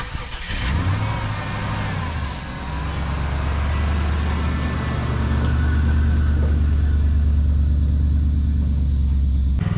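A truck engine rumbles and revs as the truck pulls forward on a job site where an AGT QH12R mini excavator is working. The heavy motor grows louder and steadier toward the end.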